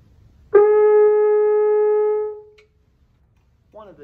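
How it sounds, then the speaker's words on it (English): A French horn sustains a single high note, held steady and clear for about two seconds before fading, alone in a quiet room, followed by a brief voice at the end. "And a high note on the French horn sounds like this."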